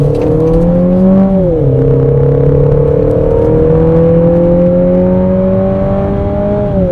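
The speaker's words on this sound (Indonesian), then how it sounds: "Suara knalpot langsung berubah." A Peugeot 3008 Allure Plus exhaust drones loudly and steadily after a button switches its sound mode, its pitch dipping briefly and then slowly climbing again as the engine revs.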